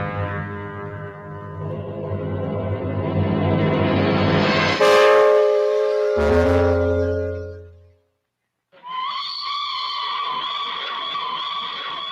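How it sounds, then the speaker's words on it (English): A toy Flying Scotsman steam locomotive's whistle blows a long, steady harmonic tone, cuts off briefly, then sounds again with a brighter pitch after a short pause. "Flying Scotsman's whistle."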